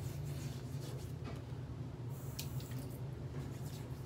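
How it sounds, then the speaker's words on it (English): Water being added by hand to a shave-stick lather on the face, a soft steady wash of running or splashing water with faint wet dabbing, close and continuous, no talking. "Just gonna add a little bit of water."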